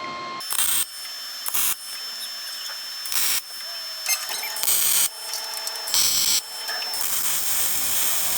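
Welding control arm mounts onto a Firebird chassis, heard as a series of short, close bursts of harsh hissing crackle separated by brief quiet gaps, building into longer runs toward the end.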